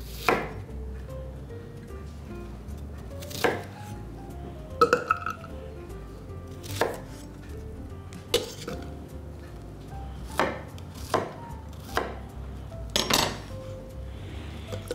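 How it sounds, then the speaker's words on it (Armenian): A knife finely chops onion and garlic on a board, giving about a dozen sharp, separate thuds at an irregular, unhurried pace. The cuts are close and fairly quiet, with faint clinks in between. "մանր կտրատենք"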